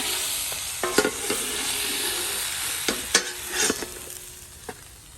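Fish frying in a pan, a large kodai fish cooked hotel style with salt and ginger, turned to fry on both sides: a steady close sizzle broken by several sharp clatters of a spatula against the pan, with no voices.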